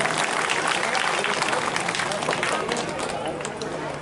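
Sustained applause from the audience at a Bhagwat Katha gathering in Durgapura, Nagda: dense, vigorous clapping that is strongest at first, then gradually thins and softens toward the end.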